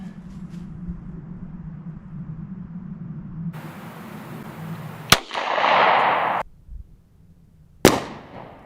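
A 9mm pistol fired outdoors at a 50-yard target: two sharp, loud reports a few seconds apart, the first followed by a short burst of hiss, with low background rumble before them.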